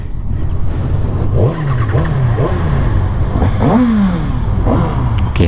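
A Kawasaki ZX6R sport motorcycle engine revs up several times from a steady idle, each blip rising in pitch and falling back, heard close and fairly loud with no talk.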